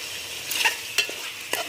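Chicken with green chillies and a little turmeric sizzling in a pan, stirred with a few distinct scraping strokes over a soft continuous fry, with no talking.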